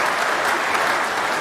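A studio audience applauds in a steady, dense burst of clapping that holds at an even level throughout.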